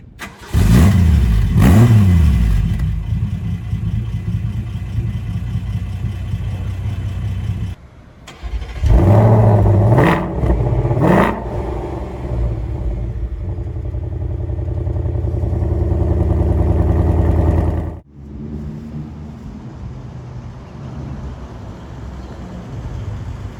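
A Ford Mustang engine roaring close and loud, with an opening burst of revs, a brief cut, another sharp rev, then a sustained rising drone that drops off into a lower steady rumble.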